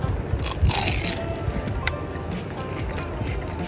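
Close crunching and chewing of crisp Thai food containing corn, irregular bites with a louder burst early on, over faint background noise.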